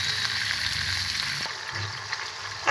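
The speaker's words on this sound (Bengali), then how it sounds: "এখানে আমি 1 টেবিল চামচ পরিমাণ আদা বাটা, রসুন বাটা, জিরে বাটা দিয়ে এবং 1 চামচ পরিমাণ হলুদ গুঁড়া দিয়ে ভালো করে মশলাটাকে কষিয়ে নিব" Ginger, garlic and cumin paste with turmeric frying for chicken kala bhuna, a steady close sizzle with a brief knock midway, no voices.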